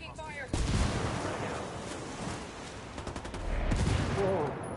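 Dense gunfire in the Ghost Recon Wildlands video game, loud sustained bursts and rapid automatic rattles filling the whole stretch with a roaring background, voices faintly mixed in.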